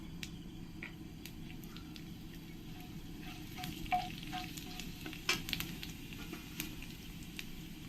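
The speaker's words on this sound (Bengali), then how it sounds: "তেলটা গরম হয়ে গেছে এবার আমি এর মধ্যে এক চামচ জিরে দিয়ে দেবো" Cumin seeds crackle in hot oil for palak paneer as a steady low sizzle with scattered sharp pops and spits, near and moderately quiet, with no voices.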